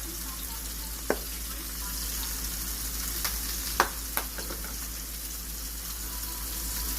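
Rosemary and thyme sizzle in a frying pan: a steady, even hiss runs throughout, broken by a few sharp clicks and taps near the pan. No one speaks.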